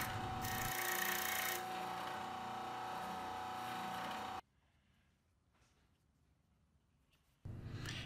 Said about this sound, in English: I just wanted to touch them up on my disc sander to make sure they're all perfectly flat